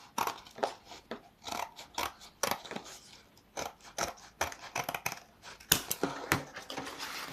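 A biscuit-tin box, a printed cardboard or thin tin container, being cut down to size by hand without a ruler, giving a run of irregular snipping and crunching cuts, fairly close and moderately loud, with no talking.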